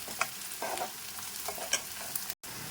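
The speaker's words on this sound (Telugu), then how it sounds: "బ్రౌనిష్గా వచ్చేంత వరకు నేను ఇలా కలిపేస్తాను" Chicken in yogurt frying in a pan as it is stirred until brownish, a steady close sizzle with scraping stir strokes at irregular intervals, no voices.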